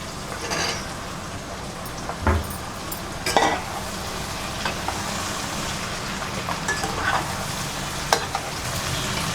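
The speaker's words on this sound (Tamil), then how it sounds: "ஒரு 10 நிமிஷம் வெண்டைக்காய் நல்லா வதங்கினா போதுங்க." Okra and brinjal sauté in a pan, a steady close sizzle with occasional stirring scrapes and clinks over roughly nine seconds, no voices.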